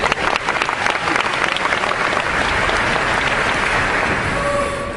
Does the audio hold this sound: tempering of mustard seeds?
no